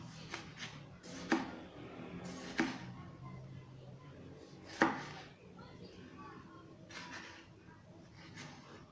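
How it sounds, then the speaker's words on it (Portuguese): Knife chopping through tomato on a board for a salted croaker moqueca, a few sharp separate cuts spaced seconds apart over a soft kitchen background. "Vamos cortar agora o tomate."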